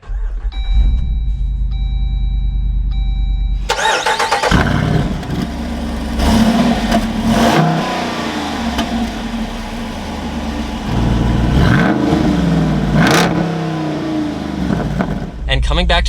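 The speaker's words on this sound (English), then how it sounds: "let's go ahead and fire up this V8 though with my foot on the brake" A 2021 Jeep Wrangler Rubicon 392 V8 starts after a few dashboard chimes, then barks into a loud, deep idle with several sharp revs, while someone talks over it.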